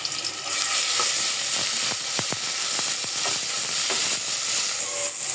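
Onion, cumin paste and garlic paste sizzle loudly in a hot pan, a steady bright hiss with a few scraping stirs, close up and with no talking.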